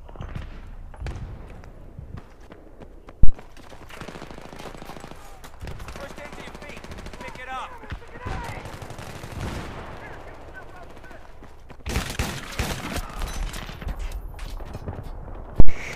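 F2000 rifle gunfire in Battlefield 3 multiplayer on PS3, bursts of rapid automatic shots mixed with distant battle noise and sharp isolated bangs, with someone talking over much of it.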